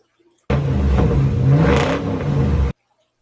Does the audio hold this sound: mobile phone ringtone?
no